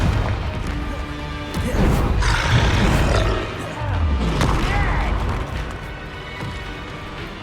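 Confringo fire spell blasts in the Hogwarts Legacy video game: loud bursts and crashes, one after another, mixed with grunts and other combat noise. Game sound plays throughout, with a voice heard at moments.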